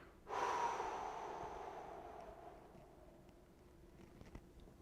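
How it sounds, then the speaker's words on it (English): A single gentle breath out through the mouth, like blowing toward a candle, rises suddenly and then fades slowly as a soft, close airy hiss over a quiet room. "you could do almost like a candle's breath out through the mouth"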